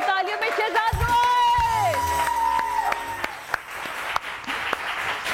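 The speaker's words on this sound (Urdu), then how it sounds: "یہ دیکھ لیں، آپ کے لیے تالیاں رک نہیں رہی ہیں آج۔" A studio audience breaks into loud, sustained applause and cheering to welcome a singer onto a morning TV show stage, while a host's voice speaks over the clapping.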